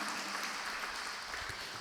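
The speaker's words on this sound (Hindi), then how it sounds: "एक बार जोरदार ताली बजा के इनका स्वागत करें।" Steady applause from an audience at a Jain religious discourse by a nun, a dense wash of many hands clapping, fairly faint and continuous throughout with no talk over it.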